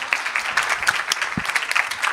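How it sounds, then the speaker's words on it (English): Audience applause at a hybrid media literacy forum in Helsinki, a steady wash of many hands clapping at moderate volume with no talking over it. "Give yourself a round of applause."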